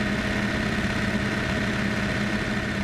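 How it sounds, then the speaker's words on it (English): A rattly car engine in a racing game mod idles continuously, a steady mid-low drone with a faint uneven buzz, heard alone without talk. "That is a rattly engine as well."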